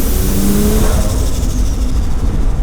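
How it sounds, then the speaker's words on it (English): A loud Nissan Skyline drift car engine revs hard, its pitch climbing and then easing off, close and continuous with no talking, on a street in Japan. "This thing is the best sounding car ever."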